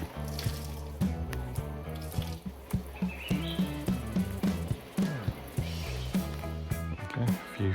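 Cold water runs from an open-air shower at a jungle treehouse in Laos, a continuous splashing flow layered with tonal, rhythmic sounds from the surroundings.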